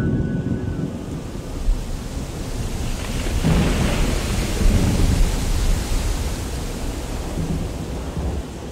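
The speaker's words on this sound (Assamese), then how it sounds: "আবতৰীয়া বতাহ ধুমুহা এজাক আহিল" Radio-drama storm effect of a gusty out-of-season windstorm with thunder, a dense roaring rush of wind and rain rumbling continuously and loudly, swelling in the middle with no voices.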